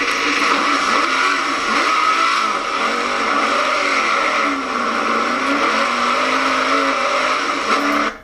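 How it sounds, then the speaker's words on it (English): A hillclimb race car pulls away in second gear, its engine note dipping briefly before climbing steadily, loud and close throughout, with no voices. "that's definitely a second gear start. You can kind of hear that drop in RPM, but very minimal wheel spin"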